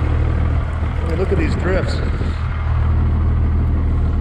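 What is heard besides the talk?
12 valve Cummins 5 speed truck engine running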